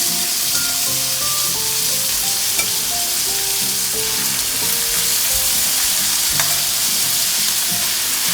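Cooked jasmine rice being stir-fried over high heat in a hot pan for Thai basil chicken fried rice, a steady loud sizzle with scraping and clinking of the spatula throughout, no talking.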